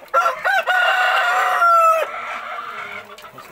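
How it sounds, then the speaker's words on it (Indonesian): A Pelung rooster crows nearby in a long, drawn-out call with a wavering, stretched final note, loud and clear against a quiet background. "Ini ada ayam pelung"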